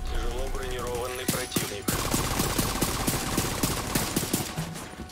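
Rapid bursts of automatic gunfire from a fast-firing weapon in Tom Clancy's The Division 2, loud, close, and sustained as a steady fusillade with a few heavier single shots at the start.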